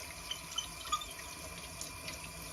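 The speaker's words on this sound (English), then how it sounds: "Turn the water down a little bit so I'm not shooting it all over the place." Tap water running into a sink while plastic model car parts are rinsed, a steady hissing stream with small splashes and drips, continuous and fairly quiet, no voices.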